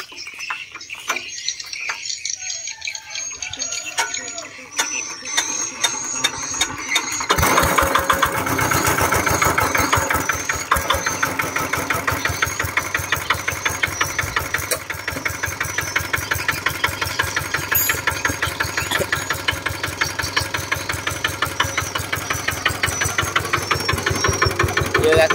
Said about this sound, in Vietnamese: Rồi phát máy lên cho cô chú nghe đánh giá tài.